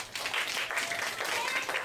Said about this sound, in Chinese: 给我掌声鼓下吧。